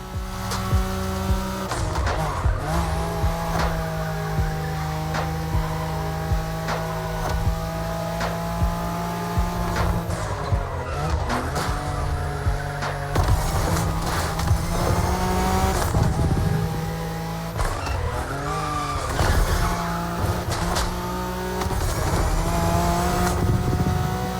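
A Nissan Skyline tears through a Wangan race along the Tokyo Bayshore route in The Crew Motorfest, its engine howling and rising and falling through gear changes, loud and continuous with no talk.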